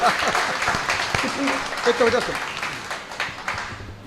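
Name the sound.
audience applause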